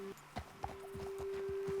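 Horse hooves clip-clop in Red Dead Redemption 2, a few soft, irregular steps over a steady low hum, near and moderately quiet.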